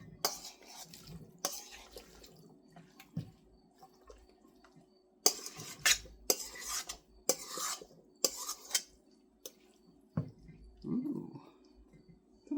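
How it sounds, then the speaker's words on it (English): Utensils scraping and clanking against a casserole dish as a potato dish is scooped and dumped in, in irregular bursts of metallic and ceramic clatter with quiet gaps between them. "Dump this into my casserole dish."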